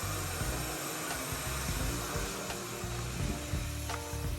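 A vacuum cleaner drones steadily and loudly throughout a car interior detailing job, with occasional knocks and bumps over the continuous motor noise.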